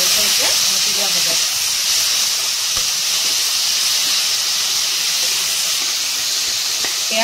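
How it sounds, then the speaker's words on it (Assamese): Chopped potatoes and tomatoes fry with onion in a hot pan, giving a loud, continuous sizzling hiss with faint scraping and stirring knocks. "আলু আৰু বিলাহী যোনখিনি কাটি থোৱা হৈছিলে সেইখিনি ইয়াতে দি দিয়া হৈছে আৰু এইখিনি ভালকৈ এতিয়া ভাজি লোৱা হ'ব"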